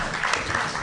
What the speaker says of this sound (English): How about a big round of applause for Jared Bush?